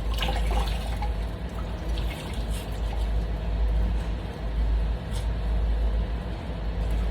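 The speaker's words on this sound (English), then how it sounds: "now that we finish washing this wig, we're going to just squeeze out the water" A washed synthetic wig is wrung out by hand, releasing a steady wet trickle and splatter of water into a sink, close and continuous, over a low background hum.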